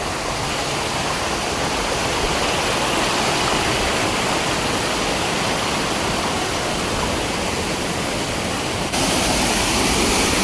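Loud, steady roar of a Konkan waterfall, a broadband rush of falling water that fills the scene without letup, with no voices, and a slight shift in tone near the end.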